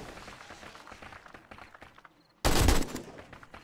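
Gunfire in the zombie survival game 7 Days to Die during a horde night at a base: a rapid run of shots, then a much louder sustained burst of firing near the end, alone without talk.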